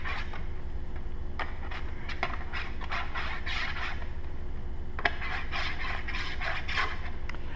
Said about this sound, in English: I take and I scribe my mark along the edge of my sheet metal